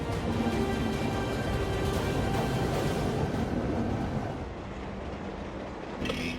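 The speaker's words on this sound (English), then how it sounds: "this last train is restricted to a speed of just 20 kilometres per hour" A train rumbles slowly along the track at about 20 km/h, a steady low rolling drone with faint metallic tones, easing off slightly near the end, in Australia.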